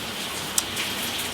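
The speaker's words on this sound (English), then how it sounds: "you might be able to hear the rain pelting out outside there" Rain pelting down outdoors, a steady diffuse hiss of drops running evenly through the moment with one small sharp tick midway, heard from indoors at moderate level with no voices.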